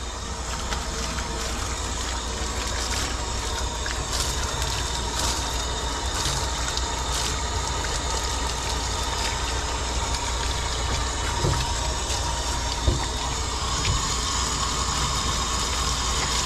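Water from a hose or sprayer rinsing a Bouvier dog's coat during grooming, a loud constant rushing spray with a steady pump-like drone throughout.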